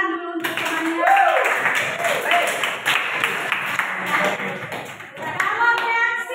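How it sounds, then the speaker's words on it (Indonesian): Students in a classroom clap for a classmate, a brisk burst of many hands applauding close by, with a voice talking over it at the start and end. "tepuk tangan dulu untuk temannya"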